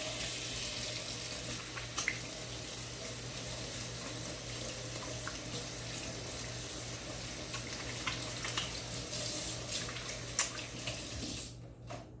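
Water runs steadily from a tap into a sink, a constant hiss with occasional splashes as hands move under the stream, then it stops.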